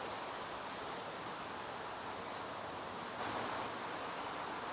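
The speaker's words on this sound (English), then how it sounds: "the next thing I'm going to do is to give the tree a good wash" Water spraying steadily to wash a cascade-style juniper bonsai tree, a continuous close hiss with a slight swell near the end and no talk.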